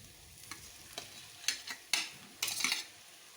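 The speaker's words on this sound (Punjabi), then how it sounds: "ਚੰਗੀ ਤਰ੍ਹਾਂ ਮਿਕਸ ਕਰ ਲਾਂਗੇ ਆਲੂਆਂ ਨੂੰ" Stirring potatoes into roasted spices in a pan for a stuffed capsicum dish. A few scraping strokes come close together, growing sharper and louder toward the end, with a faint sizzle between them.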